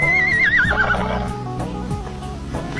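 A grey horse named Bozat gives a loud, close neigh that wavers and falls, followed by low snorting and shuffling hoof sounds.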